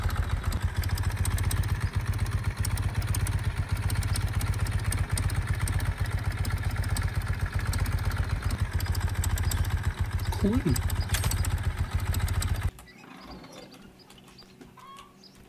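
A motorcycle engine in a farming video game, parked in a workshop, gives off a steady low rumble with mechanical rattles for about thirteen seconds before cutting out abruptly, leaving quiet room tone; a voice says a single brief word.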